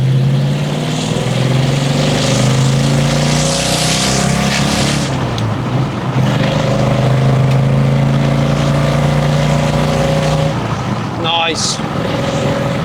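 Engine of a 1967 Dodge Charger pulling hard in second gear, a loud sustained drone rising steadily in pitch, with a voice talking over it inside the car.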